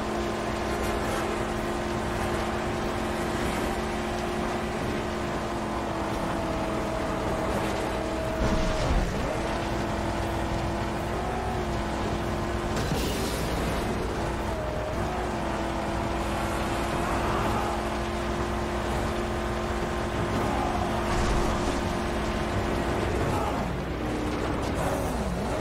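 Car accelerating on a track in the Mad Max video game, a sustained engine drone with steady tonal hum, mechanical rattles and a few louder bumps throughout.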